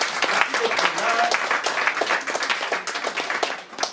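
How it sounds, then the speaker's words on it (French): Audience at a conference-debate event claps steadily, a dense, bright patter of many hands filling the room for a few seconds, with voices faintly mixed in. "On a les applaudissements avant de parler"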